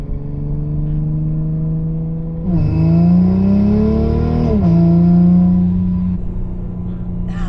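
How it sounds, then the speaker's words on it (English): A Toyota Supra GR MkV A90 accelerates hard, its steady engine note climbing in pitch, snapping through a gear change and rising again, then easing back to a lower, even drone. It is loud and close, with no talking. "The sound of that shifting. It's nice."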